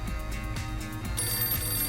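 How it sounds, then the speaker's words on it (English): A cell phone and an old landline telephone ring together: a steady ringing joined partway through by a brighter ringtone, both loud and close. "both the cell and my landline rang in unison."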